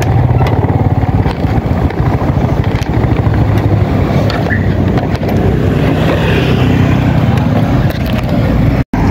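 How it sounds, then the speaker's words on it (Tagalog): Motorcycle engine idling and running close by while being parked, steady low rumble with wind buffeting the microphone, cutting out abruptly near the end. "Dito natin paparada ang ating motor."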